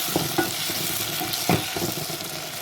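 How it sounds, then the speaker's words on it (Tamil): Tomatoes and dried fish fry in a pan with a soft, continuous sizzle, punctuated by a few light scrapes and taps as the mixture is stirred. "தக்காளி பழம் வதங்கிறதுக்காக உப்பு போடுறேன்."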